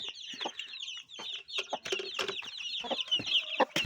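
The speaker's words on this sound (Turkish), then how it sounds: "Arap tavuğumuzun pek yerinde durmuyor. Bayağı bir sinirlendi." An agitated Arabian chicken clucks in quick, restless bursts alongside other fowl, the calls fairly close and loud and overlapping into a busy, continuous chatter with no talking.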